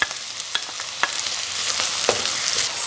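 Garlic and onion sizzle steadily in hot oil in a pan for fried rice, a bright continuous frying hiss broken by a few sharp spatula scrapes and taps as the pieces are stirred.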